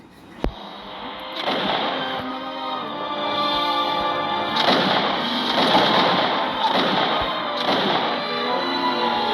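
Synthetic gunfire bursts from the game Muskets of America, with a sharp shot near the start and then sustained rumbling blasts and explosions throughout.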